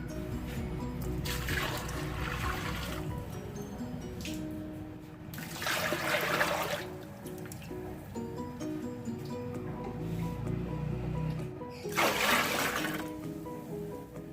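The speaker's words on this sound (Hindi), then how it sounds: "पानी ऐड करेंगे।" Water pours steadily into a pot of lentils and spices for haleem, a continuous splashing trickle that swells in a few louder bursts, close by with no talking.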